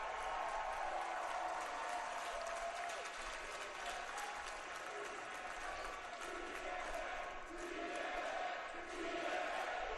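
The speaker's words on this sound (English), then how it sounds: "He's got this crowd behind him for sure." A crowd at a live TNA iMPACT wrestling event cheers and applauds. It sounds like a dense, steady roar of clapping and cheering that lasts the whole stretch, with faint voices mixed into the crowd noise.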